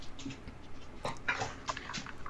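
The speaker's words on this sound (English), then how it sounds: "It's the dogs." Dogs moving and making small noises indoors in a room: soft scuffles, snuffles and faint yips scattered across the moment, close but quiet, with no talking.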